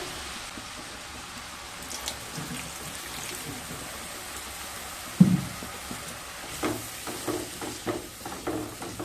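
Masala spices for a raw papaya curry are stir-fried with a little water, giving a soft, low hiss of sizzling, then a sharp knock and a run of light scraping stirs near the end.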